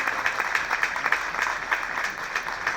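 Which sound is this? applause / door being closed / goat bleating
applause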